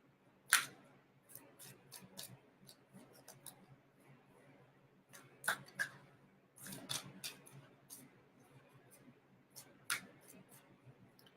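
Soft, quick riffling and tapping of cards in a quiet room, with a few sharper snaps and clicks scattered across the shuffle.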